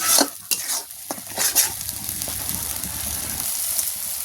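Spice paste for a Bengali duck curry stir-fried in a pan, with scraping stirring strokes near the start over a steady close sizzle that continues alone.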